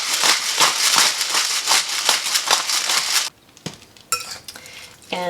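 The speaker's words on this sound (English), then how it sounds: "And just give that a stir." Sauerkraut salad seasoned with black pepper is stirred briskly in a bowl, with a few seconds of close, continuous scraping and rustling, then quieter scattered clinks and taps.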